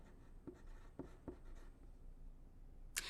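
Pen or pencil writing on a prefix activity sheet in a classroom lesson, a few short, quiet scratching strokes spaced apart in near silence, with a brief brighter scrape at the end.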